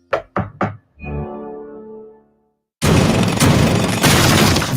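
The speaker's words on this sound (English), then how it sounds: "they're breaking down the doors." Radio-ad sound effect of doors being broken down: three sharp heavy knocks, a resonant crashing ring that fades, then a loud sustained rush of smashing and crowd-like noise.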